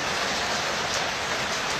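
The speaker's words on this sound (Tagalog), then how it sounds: "Grabe yung ulan." Heavy rain pours down outside in a dense, even hiss that holds steady and loud throughout, with no breaks or individual drops standing apart.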